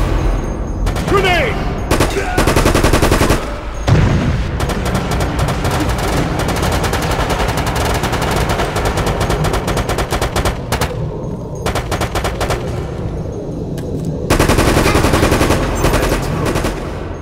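Sustained automatic gunfire from a machine gun in the Resident Evil: Operation Raccoon City video game, loud rapid bursts filling the scene with brief pauses between volleys.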